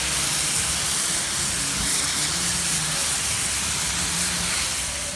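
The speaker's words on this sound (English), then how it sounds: "High pressure, and you just wash right over it, and most of the time it'll come right up" A high-pressure water hose sprays during a washdown, a loud continuous hiss close by that holds steady throughout.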